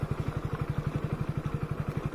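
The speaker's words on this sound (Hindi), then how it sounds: "मगर अभी तक काफ़ी मुश्किल रास्ते ये बाइक क्रॉस करके आई है।" A Splendor motorcycle on a rough offroad trail in Jammu gives a steady, rapid engine thump with evenly spaced pulses. The sound is moderately quiet and continuous, and no voices are heard.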